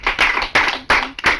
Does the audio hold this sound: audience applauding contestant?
yes